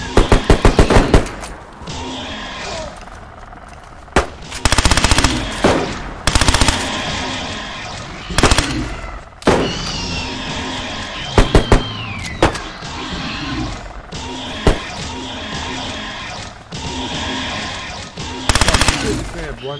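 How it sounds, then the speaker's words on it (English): Repeated bursts of automatic gunfire in the survival game DayZ, loud and close, with rapid volleys separated by short pauses across the whole stretch, mixed with background game ambience and some voices. "They are shooting at us."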